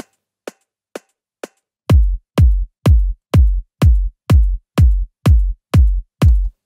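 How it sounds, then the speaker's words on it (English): A top kick drum with an aggressive attack for a piano house beat: a few thin clicks, then about a dozen punchy, evenly spaced kicks thumping at a steady tempo, loud and alone. "So I've added this top kick."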